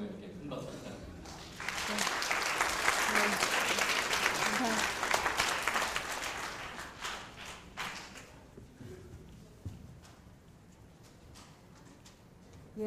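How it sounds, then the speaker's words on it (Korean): An audience at a science festival lecture hall applauds a speaker, with a dense burst of clapping that swells quickly, holds for several seconds, then thins into a few scattered claps and room noise. "좋은 강연에 오늘 와주신 박영현님께 큰 박수 부탁드립니다"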